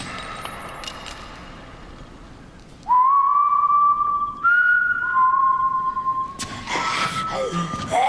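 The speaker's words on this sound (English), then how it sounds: "Who has a signature whistle like that though?" A person in a TV show whistles a signature tune of sustained steady notes that step between pitches, loud and clear over faint background noise, with a short rustle near the end.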